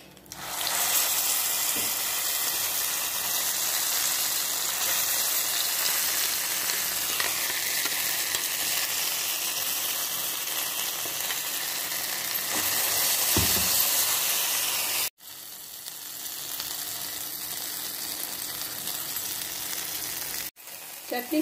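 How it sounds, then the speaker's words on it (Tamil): Ground ginger chutney sizzles in sesame oil with popped mustard seeds and urad dal, a loud continuous frying hiss with faint stirring scrapes, briefly cut off and resuming before fading near the end. "இப்போ அரைச்சி வச்சிருந்த இஞ்சி தொகையில இதோட போட்டுருவோம்."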